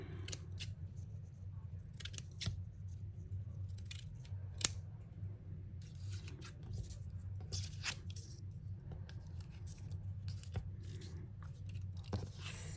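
Scissors snip through a paper tag in short, quiet bursts of cutting, with one sharper snip partway through, over a low steady room hum.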